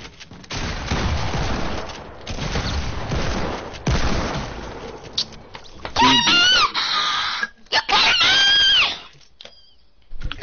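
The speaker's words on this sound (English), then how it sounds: "Okay, shoot the building down." Video game gunfire aimed at a building, with dense rapid bursts of automatic shots, then sharper separate shots mixed with shrill whistling and squealing effects, and brief silent gaps between them.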